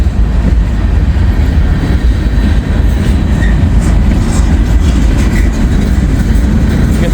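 A freight train with a big yellow boxcar rolls past close by in a loud, continuous rumble with a steady clatter of wheels on rails and no voices.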